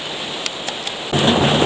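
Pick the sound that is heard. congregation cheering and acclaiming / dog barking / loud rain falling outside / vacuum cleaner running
loud rain falling outside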